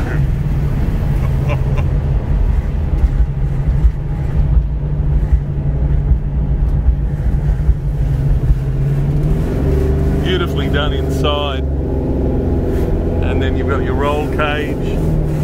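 A 1969 Dodge Charger General Lee replica with a 727 TorqueFlite automatic runs with a deep, steady engine rumble, close and loud, with wind buffeting and people talking over it later.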